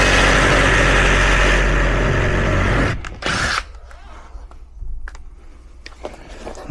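A power drill runs loud and steady for about three seconds while driving screws into HVAC ductwork, then cuts off, leaving quieter scattered clicks and light tool handling.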